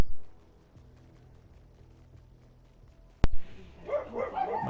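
A dog barking at a squirrel: one sharp loud bark after a quiet stretch, then a run of excited barks and yips close by.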